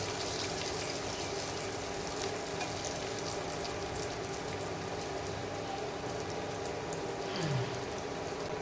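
Batter-coated potato balls for vada pav deep-frying in hot oil, giving a steady, close, dense sizzle that holds evenly throughout with no voices.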